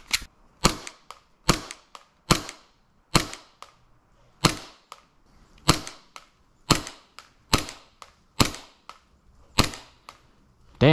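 An airsoft pistol fires at a target from a distance, giving about a dozen sharp, snappy shots at a steady, even pace, each one loud and crisp with quiet gaps between them and no talking.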